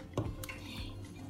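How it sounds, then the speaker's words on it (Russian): Salad with shredded chicken breast is stirred in a bowl after an extra spoonful of sour cream goes in, giving soft wet squishes and a few light clinks of a utensil against the dish, close and quiet. "Перемешиваем."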